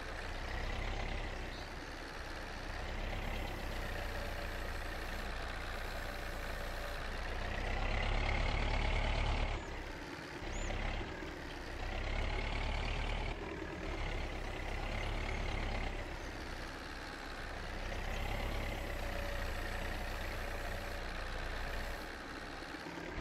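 A crawler tractor in Farming Simulator 22 labours while bogged down, its heavy diesel engine droning steadily with surges and brief drops in load across a long, continuous stretch.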